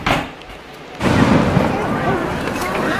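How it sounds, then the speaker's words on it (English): Fireworks at a night display in Boston, a dense continuous rumble of bursts and crackle that swells after the first second and stays loud, with crowd noise mixed beneath. "I'm gonna put in a little tidbit of the fireworks from last night right now."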